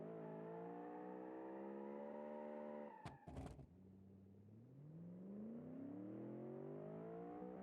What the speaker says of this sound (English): There is a naturally aspirated V8 in this.